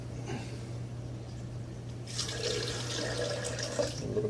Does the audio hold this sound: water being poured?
yes